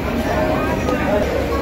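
Dense, steady crowd babble fills Beed railway station on the day the first train to Ahilyanagar runs, with many voices blending into a loud continuous hubbub and no single sound standing out.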